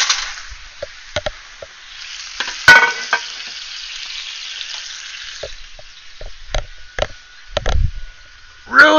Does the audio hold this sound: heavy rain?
no